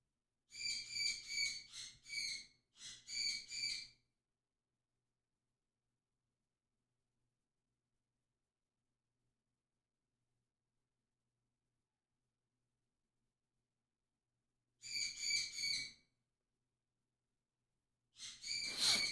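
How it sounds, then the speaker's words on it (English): A bird squawks outdoors in a series of sharp, harsh calls: a rapid cluster at the start, then a long quiet gap, then two more short bursts near the end. The calls are fairly faint and there is no talking. "Oh, bird, why? Why you have to be like this? Why are you squawking?"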